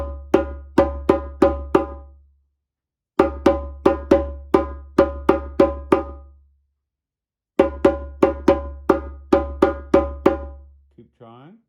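Hand drum break of mostly open tones, struck in quick bursts of about five to eight hits separated by short pauses, loud and close, with no talking.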